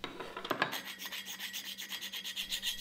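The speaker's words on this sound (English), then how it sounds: "I also remembered that I wanted to stone the mating surfaces." A sharpening stone is rubbed back and forth across the mating surfaces of a large lathe chuck, producing a close, rhythmic gritty rasp of repeated strokes with no voices.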